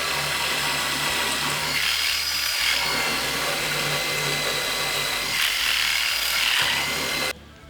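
A power drill bores a hole into masonry to mount an exterior shutter, a steady, loud grinding whine with faint rhythmic pulsing that runs continuously before cutting off abruptly at the end.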